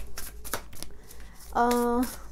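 Tarot cards shuffled by hand in a quick, close riffle of papery flicks, with a short tonal vocal sound rising near the end.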